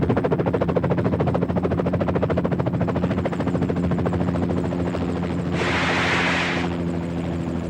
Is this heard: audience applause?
no